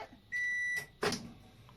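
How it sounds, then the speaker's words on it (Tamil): Microwave oven ending its two-minute cycle in a home kitchen: a single steady electronic beep lasting about half a second, then a brief clunk as the door or mechanism releases, quiet and alone. "Micro option 2 minutes start. End ஆயிடுச்சு."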